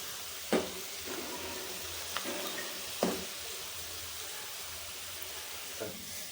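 Onion frying in a pan for a Konkani prawn biryani, a soft steady sizzle broken by a few sharp scrapes of a spatula, quiet and close with no talk.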